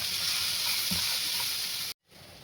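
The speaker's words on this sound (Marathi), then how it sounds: "त्याच्यामध्ये घालूया आपण लसूण, अद्रक आणि हे काजू आणि हे चांगलं परतून घेऊया." Onion, garlic, ginger and cashews frying in a pan for a paneer masala, giving a steady close hiss and sizzle that cuts out abruptly near the end.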